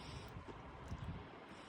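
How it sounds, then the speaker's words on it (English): Gusty wind rushes steadily across a microphone at an outdoor campfire spot near Lake City, Colorado, a faint broadband roar with low buffeting and no talk. "It got really windy all of a sudden, so hopefully we don't start a forest fire."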